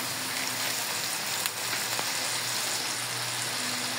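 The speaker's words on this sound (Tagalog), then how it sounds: "lalagay na natin yung ating black beans, mga Louie." Black beans go into a pan of cooking beef shank, giving a steady, moderately close sizzle with a few faint clicks, continuous throughout.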